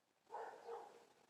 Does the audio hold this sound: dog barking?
yes